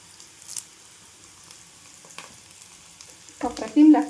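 Curry leaves fry with leftover rice in a pan for soya pulao, starting with a quiet low simmer and a brief tick, then a loud crackling sizzle burst near the end.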